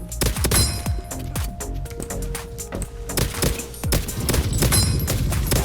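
A pistol fires in the video game Krunker, a steady run of sharp, punchy shots with metallic clinks over a dense, continuous game soundscape.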